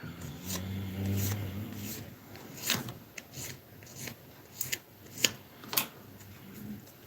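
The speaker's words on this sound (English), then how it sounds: "just run the sanding stick" Soft, scratchy rubbing strokes of a sanding stick on a small plastic part of a scale model M1070 tractor unit, repeated irregularly and heard up close at low volume.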